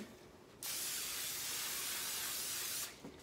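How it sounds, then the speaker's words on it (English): Cooking spray hisses into a baking pan in a continuous spray lasting about two seconds, close and loud, starting and stopping abruptly. "Okay, I'm gonna spray it."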